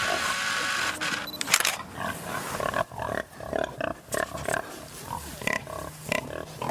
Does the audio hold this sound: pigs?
yes